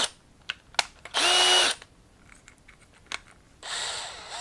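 A power drill with a 1/8 bit bores at a broken exhaust bolt on a 1976 Honda Elsinore MR175, two short whirring bursts between clicks and taps, close and moderately loud.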